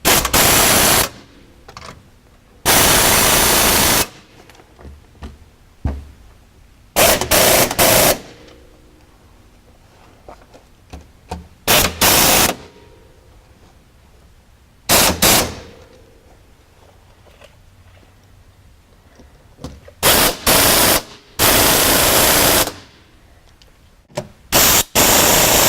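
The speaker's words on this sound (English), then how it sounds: "I am going to use an air ratchet on these" An air ratchet runs in repeated loud bursts, fastening bolts on UHMW plastic skid plates under a Polaris RZR 900, each burst a harsh rattling whir separated by short quiet gaps.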